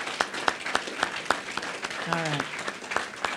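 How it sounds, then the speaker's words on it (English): A small audience at a training summit claps for a technical team: sparse, scattered handclaps in a steady rhythm, with a brief spoken phrase partway through. "Can we give them a round of applause?"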